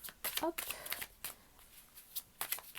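Oracle cards from the La Voix du Cœur deck are shuffled for a card reading, giving quick papery riffles and flicks in short bursts, close and fairly soft, with a voice faintly present.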